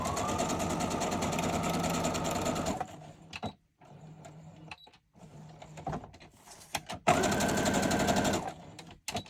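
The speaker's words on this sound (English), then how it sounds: "That, and I'm speed stitching." A sewing machine running fast while speed stitching a tag, a loud steady whirring burst for about three seconds, then short stop-start bursts, and a final strong run near the end.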